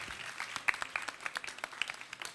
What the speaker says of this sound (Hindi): एक बार और तालियां बजा दीजिए।